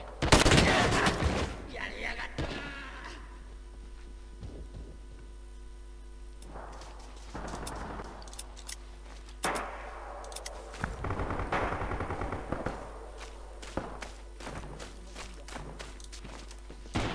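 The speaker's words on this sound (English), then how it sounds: "the Type 56 sounds so much better than the AK" Type 56 rifle gunfire in Rising Storm 2: Vietnam, street fighting in Hue City, with scattered shots and short bursts, loud up close at the start and then sporadic reports at mid distance against battle noise.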